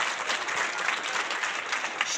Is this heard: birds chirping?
no